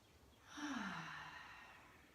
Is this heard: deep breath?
yes